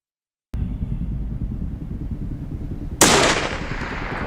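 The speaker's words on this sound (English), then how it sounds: "I squeezed the trigger, landing a clean shot just behind its ear" A single sharp hunting-rifle shot aimed at a grizzly bear cracks loudly near the end and decays over a low, steady engine-like rumble.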